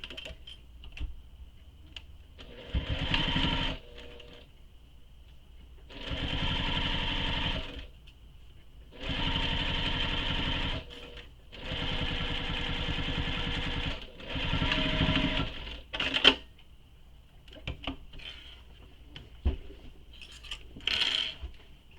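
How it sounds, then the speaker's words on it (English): A sewing machine stitches a seam on a fabric shoulder bag in several steady whirring runs of a few seconds each, separated by pauses, close up with scattered clicks and handling noises between runs. "Now we're going to sew this with the seam allowance given in the pattern."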